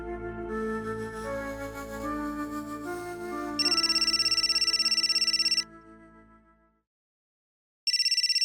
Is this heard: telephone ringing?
yes